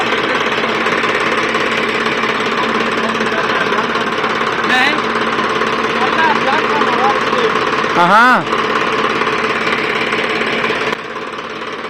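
A tractor engine runs steadily on a farm field, a continuous rough drone throughout while people talk nearby.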